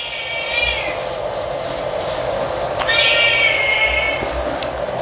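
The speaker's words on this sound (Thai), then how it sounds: "แมวอยากเข้าอ่ะ" A cat meows insistently to be let into a rural home, two drawn-out cries over a steady background hum, close and fairly loud.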